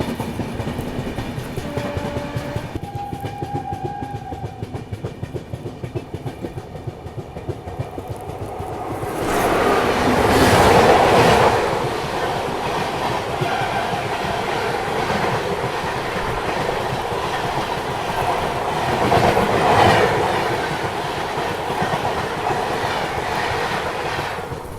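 Indian passenger train, the Dhauli Express, crawling slowly along the track, with a steady rumble and rhythmic clickety-clack of wheels, swelling louder midway with metallic squeals, heard from inside a carriage.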